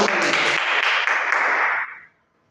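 Students in a classroom clap together briskly for about two seconds, a bright, close burst of applause that stops abruptly and leaves near silence.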